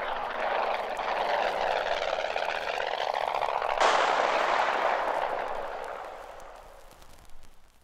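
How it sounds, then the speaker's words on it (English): A plane crashes on the shore of an island as a radio drama sound effect: a loud rushing, roaring aircraft sweep builds, breaks sharply midway, then fades into a long diminishing rumble. "Floundering helpless in the sky, it finally crashes on the shores of an uncharted island set in the midst of a vast"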